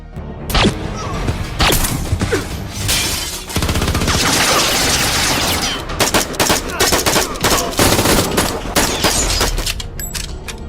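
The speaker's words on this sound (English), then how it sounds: "when Victor's men were outside, he fired his gun inside" Gunfire in a tense film shootout scene, loud, dense bursts of shots with crashing impacts over a dramatic soundtrack, near and sustained for about ten seconds.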